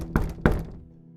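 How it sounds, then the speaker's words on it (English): Two heavy knocks on a door, dull thuds a third of a second apart, close and fairly loud, each fading quickly into silence. "walked up to her door with my husband by my side and knocked"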